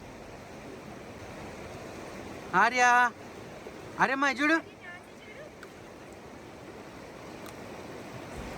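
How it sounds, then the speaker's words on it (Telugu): A fast-flowing forest stream rushes in a steady, moderate wash beside a camping spot, while a voice briefly calls out twice over the water. "క్లియర్గా కనిపిస్తుంది ఎంత ఫాస్ట్ ఉన్నాయో చూడండి వాటర్ ఫ్లో"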